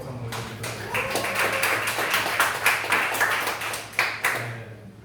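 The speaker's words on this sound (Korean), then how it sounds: "모든 감사와 영광의 박수를 올려드리도록 하겠습니다" Congregation applauding in a church on its fourth anniversary Sunday service, a few seconds of sustained clapping with distinct individual claps standing out near the end.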